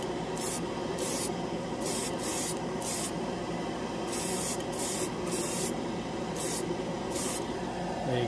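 An airbrush lays a final coat of ChromaAir paint onto a plastic scale model, producing a close, soft hissing spray in repeated short bursts of varying length over a faint background hum.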